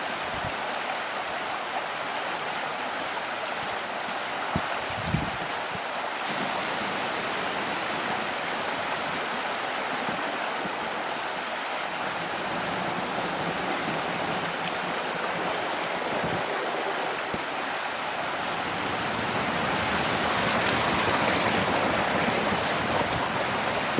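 A river rushes steadily over its rocky bed in New Zealand wilderness, a continuous loud broadband roar that swells slightly toward the end, with a couple of faint low knocks early on.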